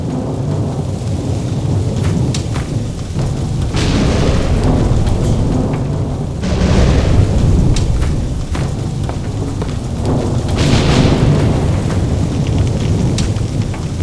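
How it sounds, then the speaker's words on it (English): Heavy rain pours down in the WWII shooter NecroVisioN, a dense steady wash with low rumbling swells like distant thunder rolling through, loud and without voices. "In England, we call it rain."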